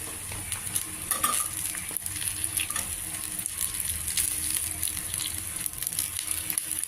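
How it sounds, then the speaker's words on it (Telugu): Small coconut pieces frying in a pan for a chutney, a continuous close sizzle with irregular stirring scrapes and light utensil clinks, no talk. "చిన్నగా కట్ చేసిన కొబ్బరి ముక్కలు కొద్దిగా వేయించాలి"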